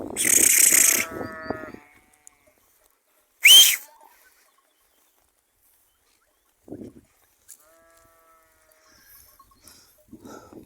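Goats and kids bleat outdoors on a rocky southern hillside, with a loud cry at the start and another sharp call a few seconds later, then only faint scattered sounds and stillness.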